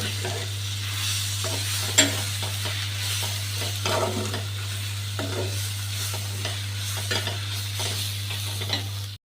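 Steady sizzling of egg omelette pieces frying in a pan for egg chutney, with a spoon scraping and stirring through them in irregular strokes, continuous and close with a low hum beneath, no talk.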